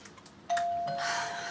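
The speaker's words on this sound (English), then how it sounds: "look, a doorbell." A doorbell rings once, a sudden bright chime that sustains and rings on loudly for about a second, close by and with no voices over it.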